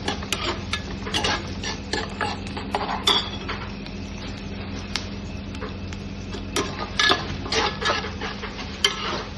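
Ginger-garlic paste being stirred into frying onions in a pan, with steady scraping and clinking of a spoon against the metal pot over a low sizzle, close and continuous with no talk.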